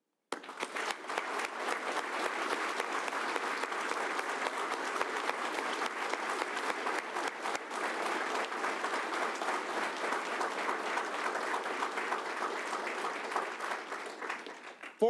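Sustained round of audience applause at a graduation ceremony, steady, dense clapping from a large crowd lasting about fifteen seconds at a moderate distance.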